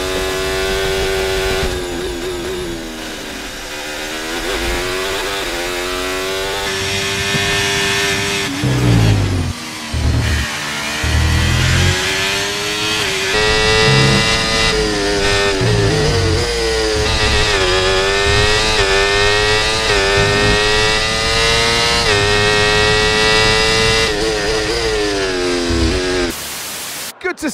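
Formula 1 car engines from the F1 23 and F1 24 games, compared against a real onboard recording: a loud, continuous high-pitched engine scream rising and falling through gear changes, with a brief gap and no voices.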